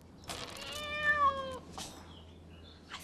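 A cat meows once in a long, clear, drawn-out call up close, followed by a brief softer sound and then quiet, with a steady low hum underneath.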